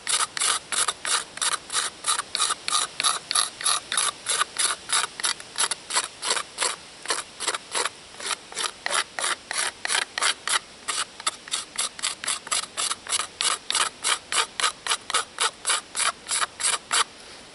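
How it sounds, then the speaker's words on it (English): A carving tool scraping out the bowl of a wooden spoon, short rasping strokes repeated in a quick steady rhythm, close and fairly loud, with no talking. "so I can get in there and get these spoons scraped out"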